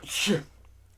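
A single sharp human sneeze, close and fairly loud, bursting briefly and fading into quiet room tone.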